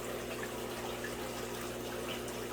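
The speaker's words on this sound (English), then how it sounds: "Let it drain a little bit." Water drains steadily from an opened aquarium canister filter: a soft, continuous rushing trickle, close and fairly quiet, with no talking.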